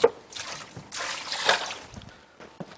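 Water trickles slowly onto a soft dough mixture in a kitchen, a gentle pouring splash with a few brief pauses, close and fairly quiet.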